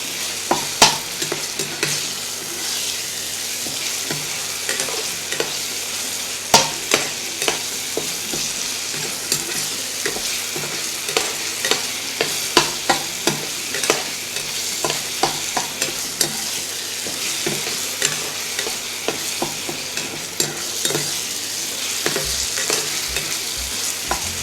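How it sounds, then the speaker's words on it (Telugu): Onion paste fries in a pan for fish kofta, giving a steady close sizzle, with frequent stirring scrapes and taps from a spoon throughout and no talking. "బాగా పచ్చివాసన పోయినంత వరకు మనం ఉల్లి ముద్ద ఫ్రై చేసుకోవాలి."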